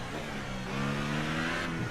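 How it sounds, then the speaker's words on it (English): A Red Bull Formula 1 car in F1 2018 at the Spanish Grand Prix accelerating down the front straight, its engine note climbing steadily in pitch, moderately loud and continuous with no talking. "we'll absolutely punch this car down that front straight"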